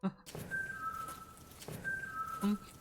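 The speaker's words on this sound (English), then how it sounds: "At this moment, our audio recorder picks up what sounds like a human whistle." A human whistle inside a prison is picked up by an audio recorder: two drawn-out, steady whistled tones, each held for about a second, moderately faint over a low background murmur.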